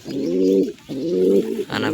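Pigeons in a breeding box coo close by in three deep, rolling calls, each a sustained throaty note with brief gaps between them.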